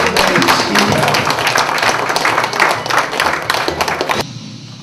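Crowd applause greeting flag bearers entering at an inauguration ceremony of a green climate organization in Busan, dense rapid clapping from many hands, loud and sustained, then cutting off abruptly near the end.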